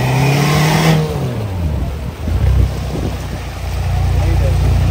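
A Mahindra Thar stuck among rocks in the Zanskar valley revs its engine loudly, the pitch rising and falling in surges, with voices talking over it.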